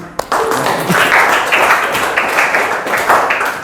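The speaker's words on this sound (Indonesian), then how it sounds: "Oke, tepuk tangan buat kita semua" A classroom of students claps together, a dense, close burst of rapid hand claps that starts sharply and keeps going steadily for a few seconds.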